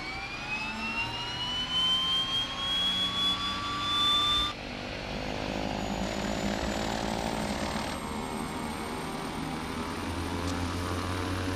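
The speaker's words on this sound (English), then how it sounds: "Alright, left engine is going." Left engine of a twin-engine propeller aircraft starting up in Microsoft Flight Simulator X: a rising whine climbs in pitch, then gives way to a steady, loud propeller drone and engine rumble.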